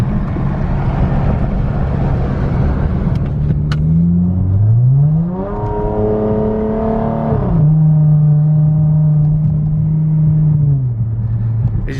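Steady low exhaust drone heard from inside a 2014 Dodge Challenger SXT with a V6 and straight pipe, windows up, droning loud and continuous with the pitch swelling and falling as the revs change.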